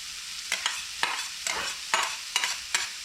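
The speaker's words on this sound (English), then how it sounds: "And I'm going to saute the onions." A chopped medium onion sautés in melted butter in a pan, with a soft steady sizzle broken by about seven rhythmic scraping stirs of a utensil.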